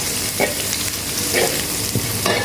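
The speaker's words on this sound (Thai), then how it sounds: "ตั้งกระทะใส่น้ำมัน น้ำมันเริ่มร้อน ใส่กระเทียมไทยลง" Thai garlic sizzles and crackles steadily in hot oil in a wok, with a few scraping stirs of a spatula against the pan.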